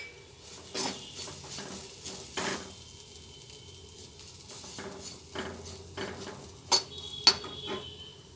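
A bitter gourd fry is stirred in a pan with chilli powder and coriander powder. A spoon scrapes and clinks against the metal in irregular strokes over a soft, steady sizzle, with two sharper knocks near the end.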